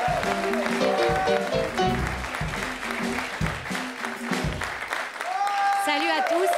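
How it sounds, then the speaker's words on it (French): Television studio audience claps and cheers during a French comedy variety show, applause running under loud music and voices, with swells and dips in intensity. "Allez, on l'applaudit"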